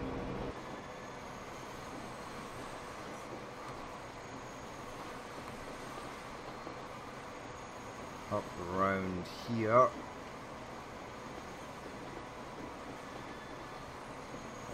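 Electric trains from several countries race along the tracks in Transport Fever, a steady low rumble running throughout, with someone talking briefly over it.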